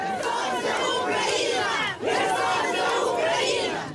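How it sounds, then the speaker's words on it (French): A large crowd in a city square in Kherson chants a slogan over and over in loud, continuous unison, with a brief dip between repetitions and a steady roar of many voices. "Kherson est ukrainienne, clame la foule."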